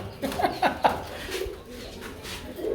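Quality pigeons in a breeder's loft give a quick run of close, throaty coos in the first second, then quieter rumbling coos trail off over low background noise.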